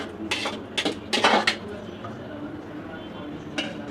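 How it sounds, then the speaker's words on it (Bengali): A metal lid clatters onto a pot of cooking mutton, several sharp clinks and knocks close by over a low background hum. "ঢেকে দিলাম আধা ঘন্টার জন্য।"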